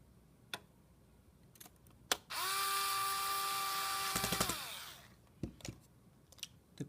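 A power screwdriver drives a screw to fasten a silver bracket back onto the hinge of a Lenovo Yoga 11e Gen 2 laptop, whirring steadily for about two and a half seconds between a few sharp clicks and taps, close and clear.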